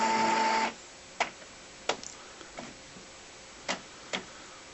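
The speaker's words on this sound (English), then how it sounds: "The printer's recognised the cartridge, it's going through its setup" An Epson DX-series inkjet printer with a continuous ink system fitted runs its cartridge setup: a steady mechanical whir stops, then sparse, separated clicks and ticks follow in a quiet room.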